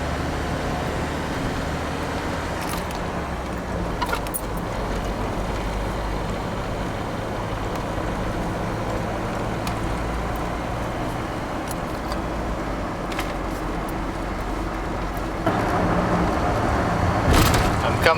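A car with no working clutch fluid rolls along in gear, its engine a steady low drone with road noise that swells slightly near the end.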